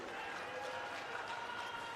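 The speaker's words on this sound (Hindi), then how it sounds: "जोरदार तालियों से श्रीमान अरविंद केजरीवाल साहब का स्वागत है जी" Applause greets Arvind Kejriwal at a political rally in Rewa, Madhya Pradesh, a quiet, distant, even patter of many hands clapping without a break.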